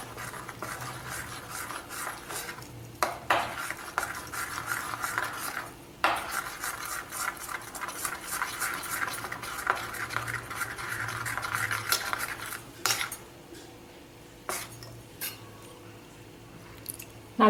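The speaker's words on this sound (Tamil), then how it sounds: "உங்களுக்கு டிஃப்ரென்ஸ் எப்படின்னு காமிக்கணுங்கிறதுக்காக 2தையும் தனித்தனியாக கலக்கிறேன்" Homemade shikakai herbal shampoo mixture being stirred in a vessel, soft wet swishing and scraping repeating continuously with occasional sharper clinks from the utensil against the container.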